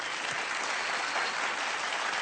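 Applause from a studio audience at a comedy show, offered as a tribute to a singer, a dense even wash of clapping heard at a distance and fairly faint.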